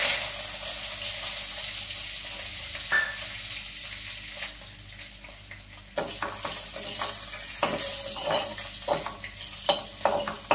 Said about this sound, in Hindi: मैं कढ़ी क्या बोलते हैं कढ़ी का तड़का देने जा रही हूँ